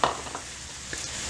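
Paella ingredients with finely chopped garlic being stirred in a pan, a soft sizzle with light scraping and a brief clink of utensil, close and fairly quiet, no talking.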